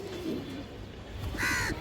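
A khaki male pigeon, about a hand's length in size, gives a short coo late in the clip, fairly close, over a low steady background murmur.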